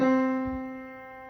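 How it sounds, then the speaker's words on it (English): A single sustained middle C, piano-like, clear and steady, slowly fading over about a second with rich overtones and no other sounds. "That's our middle C. It always sounds like this."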